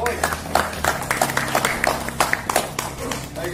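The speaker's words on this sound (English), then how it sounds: "Give him a round of applause" A small audience claps together at a farm show in New Zealand, a steady patter of hand claps that carries on for a few seconds at moderate loudness.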